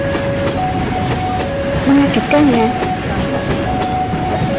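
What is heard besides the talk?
loud train approaching, sound effect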